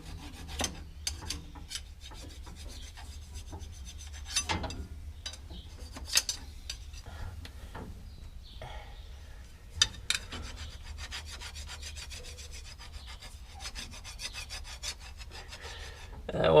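Rasping strokes of a file working teeth marks off a steel tractor shift rail on an IH 1086, irregular close rubbing scrapes with occasional sharper knocks, no voices.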